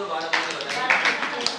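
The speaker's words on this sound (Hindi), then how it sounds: "सबके लिए ताली बजा दो" Brief scattered applause from a small seated gathering at a religious evening class, a few hands clapping unevenly under an ongoing voice.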